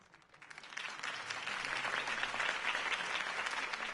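Applause from a large crowd in a Batman video game swells quickly and holds steady as dense, continuous clapping.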